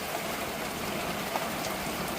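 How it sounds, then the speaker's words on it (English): Heavy monsoon rain falls steadily in a broad, even hiss, with water pooling on a driveway and no clear voices over the continuous downpour. "It's raining hard."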